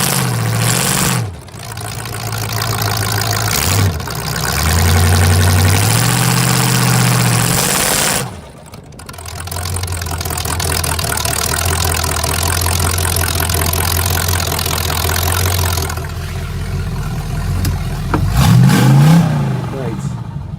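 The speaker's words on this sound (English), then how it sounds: "I was so excited to get that car ripping down the road." A car engine revs loudly close by, idling and surging through repeated throttle blips before pulling away with a long rising drone. A voice talks over the engine noise at points.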